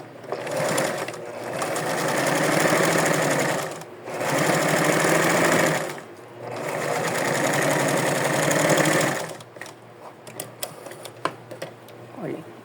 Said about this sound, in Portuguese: E outra costurinha aqui por onde vai passar o elástico.